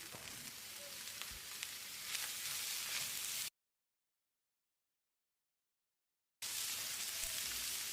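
Chopped tomato sautéing in a pan for a mutton kulambu masala gives off a soft, steady sizzle close by. The sizzle cuts out to full silence for a few seconds, then resumes.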